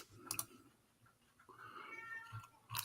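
A cat meows a few times, short sharp calls at the start and end with a softer drawn-out cry in between, heard indoors over faint clicking.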